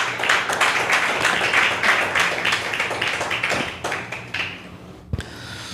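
Congregation claps strongly for Jesus Christ during a sermon on Romans, a burst of vigorous, somewhat rhythmic clapping that gradually thins out, ending with a few scattered claps and a thump.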